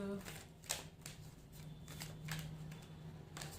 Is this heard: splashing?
no